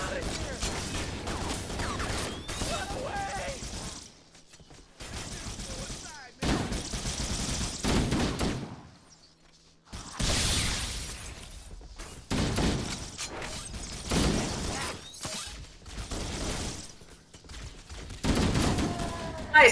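Repeated gunfire in the Halo video game as enemies are shot, with long rattling volleys broken by short pauses and a nearly silent gap partway through.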